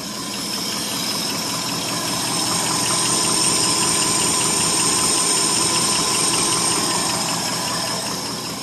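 A 1970 Ford F100 pickup's 390 FE V8 idles with a dense, continuous rumble and a fine rapid lifter tick running through it, close and constant throughout.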